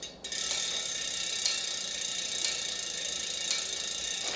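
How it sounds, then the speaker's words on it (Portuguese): A Vicinitech RA1490 bicycle wheel's 11-speed freehub ratchet gives off a continuous fine clicking buzz, with a louder single knock about once a second, close and alone. "esse é o barulho do free hub em si"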